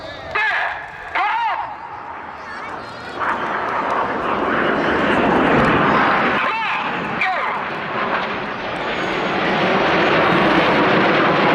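Red Arrows jets flying rollback manoeuvres at an armed forces day display roar overhead, a broad distant rushing whoosh that swells and sustains, with a commentator speaking over it and brief whistling passes early on.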